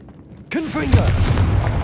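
A fire blast spell explodes in the video game Hogwarts Legacy: a sudden loud burst with a short vocal cast sound, then a sustained roaring rumble that fills the rest of the moment.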